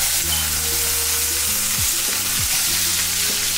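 Corn fries in a bit of oil while being stirred, a loud, close, continuous sizzle with scraping stir strokes and a tonal musical bed running underneath.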